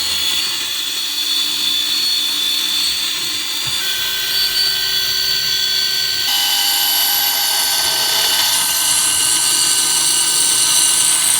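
A spinning gyroscopic aircraft attitude instrument with worn, dodgy bearings whines loudly and steadily, its high-pitched tones shifting in steps as it holds speed.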